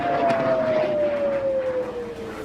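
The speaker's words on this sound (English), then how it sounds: "Explosions lit Israel's night sky and air raid sirens blared." Air raid siren blaring in Israel at night during Iranian strikes, a single steady wailing tone slowly falling in pitch over a constant background rumble.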